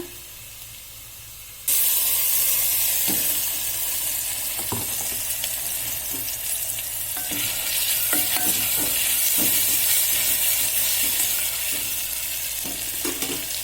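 Onions and masala sizzle loudly in a hot pan, the frying hiss kicking in suddenly and continuing steadily with repeated scraping stirs and clinks of the spoon against the pan.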